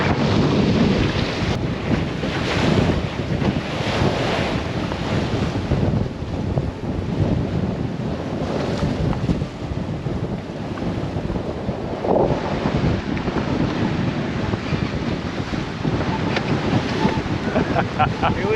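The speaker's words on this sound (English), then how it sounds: "Big breeze." Strong wind roars at sea aboard a racing sailboat in Principe Channel off Campania Island, a loud, continuous blustery rush with gusting microphone buffeting and water noise, and no talk.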